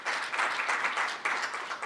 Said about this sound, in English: Another round of applause for the Chairperson